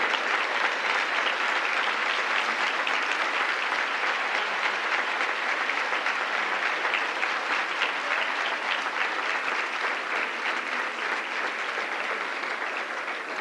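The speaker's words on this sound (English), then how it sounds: "give her a thunderous St. Louis welcome, round of applause and tribute" Sustained, thunderous applause from a large St. Louis audience welcoming Sarah Collins Rudolph at a women-in-leadership event, a dense, unbroken roar of clapping that holds steady for many seconds.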